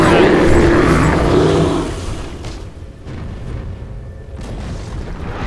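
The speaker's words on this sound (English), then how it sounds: "Your top tower has fallen." A Dota 2 tower collapses in a loud, rumbling boom that fills the first two seconds, then fades into quieter game ambience and battle noise.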